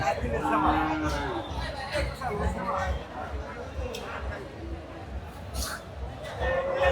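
Small local cattle at the Joymondop cattle market in Manikganj, lowing now and then amid a busy crowd murmur, with a person talking nearby.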